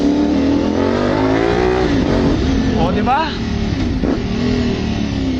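A CFMOTO 450SR motorcycle engine drones steadily with rising and falling revs, loud and close, while a voice speaks briefly over it.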